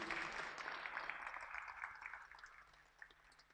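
Audience applause at a business conference for an award-winning truck driver, a steady patter of clapping that slowly fades, heard from a distance.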